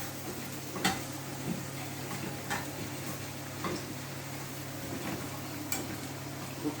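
A brown spice mix is stirred in sizzling oil in a pan, giving a steady low frying hiss broken by occasional sharp utensil taps, fairly quiet and without voices.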